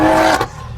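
A Toyota Supra sweeps past in a brief, loud engine whoosh that cuts off quickly, heard close by.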